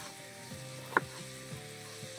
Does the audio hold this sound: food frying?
yes